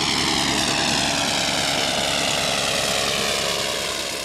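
A 1910 Blériot XI monoplane's engine running at an airshow, a steady loud droning roar with a rough rhythmic beat, continuous throughout and close by.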